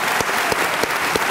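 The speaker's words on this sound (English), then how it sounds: "Please join me in a round of applause for the graduates of the Masters of Science in Information Security" Applause for Master of Science in Information Security Policy and Management graduates at a 2011 Heinz College diploma ceremony, a loud dense burst of clapping with a few rhythmic accents.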